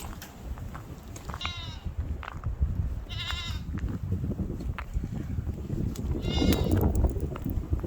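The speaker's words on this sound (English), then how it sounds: "are my goats acting like they're starving to death, as usual." Goats bleat several times at moderate distance over a steady rush of wind and rustling, with calls spaced a few seconds apart.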